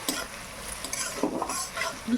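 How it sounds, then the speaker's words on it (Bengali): Onions sizzle steadily in a hot pan while a utensil stirs and scrapes now and then, close and fairly quiet, with no voices. "পেঁয়াজটা ভাজছি যাতে গলে যায়"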